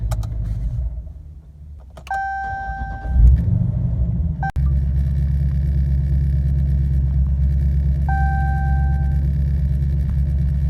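A car engine starts with a short rumble and then idles steadily and low, while a couple of electronic chimes sound inside the cabin, with a service electronic stability control warning showing.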